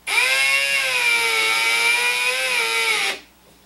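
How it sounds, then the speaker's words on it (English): A power driver sinks self-threading screws that cut their own thread while a box fan filter is assembled: one steady, close whine holding for about three seconds, then cutting off abruptly into quiet. "nice and slow when you're putting these screws in"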